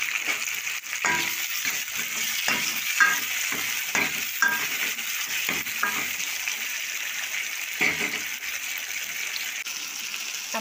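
Onions sautéing in a pan with a pinch of salt, turning golden, with a steady sizzle broken by repeated stirring scrapes and clinks of a spoon against the pan.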